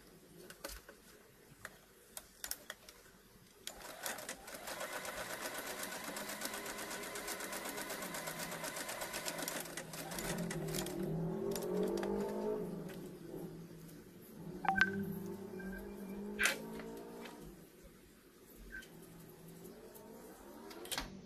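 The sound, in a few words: sewing machine stitching cloth mask back and forth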